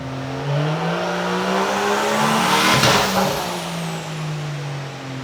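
BMW M3 with a single turbo kit running on low boost on flex fuel, a steady loud engine note that rises and swells to a peak near the middle before easing back, with no talk.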